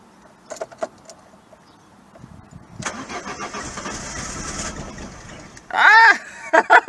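Renault Clio running on E85 fuel attempting a cold start: a starter cranks briefly and the engine catches for a moment, with key jingles and a short burst of engine noise close by.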